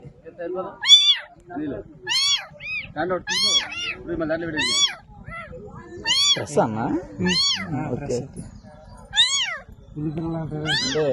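Forest cat cubs found in Agiripalli give repeated high, rising mews, close and loud, in quick bursts throughout, with people talking in between and under the calls.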